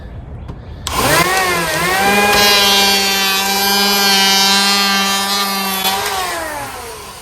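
A power planer spins up and cuts a curve along a wooden door edge, a loud whining motor pass lasting about five seconds before winding down.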